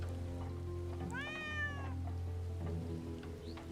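A cat in a video game lets out a single clear, rising-then-falling meow lasting under a second, heard over a low steady hum and faint rain-like background ambience.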